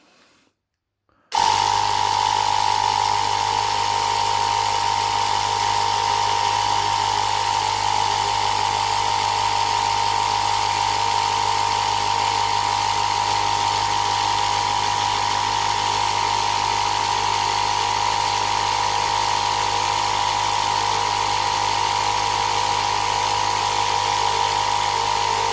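A Black and Decker Matrix pump inflates a tire, kicking in after a brief quiet start. It then keeps up a loud, continuous mechanical whine with a steady hum.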